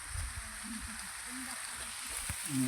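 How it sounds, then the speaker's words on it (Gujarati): Steady heavy rain hisses on a surface, a constant wash of noise with faint low voices murmuring underneath, during lemon picking. "જો પાછો આવ્યો છે વરસાદ ધોધમાર"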